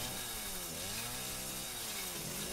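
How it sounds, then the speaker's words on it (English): A chainsaw in Resident Evil 7: Biohazard used to cut through a lock, a loud sustained engine drone with shifting pitch sweeps as the blade bites. "Use the chainsaw."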